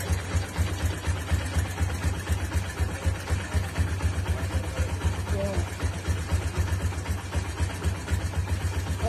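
A motorcycle engine idles just after a service, heard up close with a steady, rapid, even putter that keeps a regular low pulse throughout.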